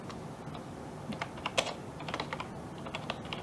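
Keys clatter on a computer keyboard as a string value is typed into a running Java program, a quick close run of irregular taps.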